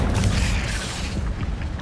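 A fire spell explosion from Hogwarts Legacy bursts as a loud, dense, rumbling boom that fills the whole moment and roars steadily without a break.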